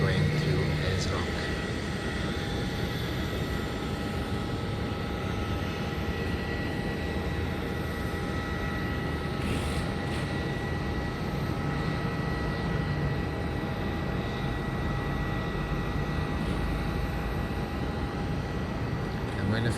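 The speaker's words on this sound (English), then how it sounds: "Taking off now. It's down there. That looks like it's a private jet." A private jet taking off, heard from a distance while plane spotting as a steady, continuous engine roar with a faint whine, unchanging in level under the wind and background noise.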